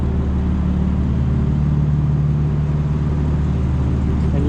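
A 2025 BMW M4 Competition xDrive with its exhaust valves open, cruising at night in Atlanta, heard from inside as a steady, loud, low droning engine and exhaust note with a slight rise in pitch, no talking.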